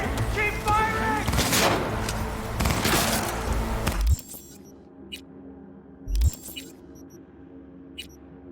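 Heavy gunfire in Cyberpunk 2077 combat: dense, loud bursts of shots and booms for about four seconds, then sudden quiet broken by a few isolated distant pops and one louder thump.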